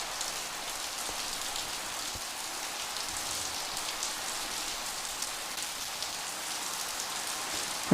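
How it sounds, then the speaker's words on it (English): Rain falling steadily at Incheon, South Korea, makes a soft, even hiss of countless drops on surfaces, faint and continuous with a few slightly louder taps. "the rain sound is very peaceful"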